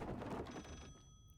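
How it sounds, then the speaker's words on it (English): A telephone bell rings steadily in the horror video game Layers of Fear, loud and sustained for just over a second before cutting off, with no talk over it. "And once again, the phone is ringing."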